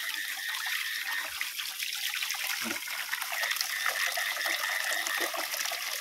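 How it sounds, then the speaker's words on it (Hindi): Water gushes steadily into a container to dissolve a chlorine tablet, a close, continuous rushing pour with bright splashing that swells slightly near the end. "We are mixing the chlorine tablet with water."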